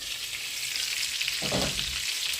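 Buckwheat patties (hrechanyky) fry in oil in a covered pan, giving a steady, close sizzling hiss throughout, with a brief fuller crackle partway through.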